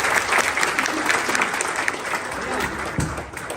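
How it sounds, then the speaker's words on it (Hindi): An audience claps steadily for a little girl at a gathering, a dense, continuous patter of hands that holds at an even level throughout and tails off slightly toward the end. "इस बच्ची के लिए ताली बजाइए एक बार"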